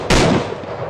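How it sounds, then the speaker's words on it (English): A single sharp, loud sniper rifle shot rings out in a video game, a sudden booming crack that decays quickly into a brief rumbling tail. "So I found a sniper rifle."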